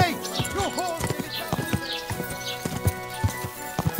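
Rhythmic clip-clop of a horse's hooves in quick galloping beats in the video game Kingdom Come: Deliverance II, accompanied by music with swooping tones.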